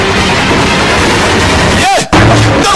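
Gunfire from an action movie scene, a loud dense burst of shots and blasts filling the moment, briefly cut off before resuming.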